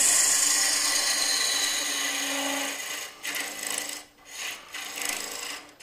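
A woodturning gouge cuts a long wooden goblet stem on a spinning lathe, giving a steady close rasping scrape for about three seconds before it breaks into shorter bursts with brief pauses.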